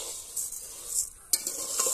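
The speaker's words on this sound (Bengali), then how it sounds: "আমি চালটাকে প্রথমে কড়াতে এইভাবে গরম করে নেড়ে নেব।" Rice stirred with a utensil while it dry-roasts in a hot kadai, before being puffed into muri: soft, intermittent scraping and rustling of the grains against the pan, with one sharper clatter partway through and no talking.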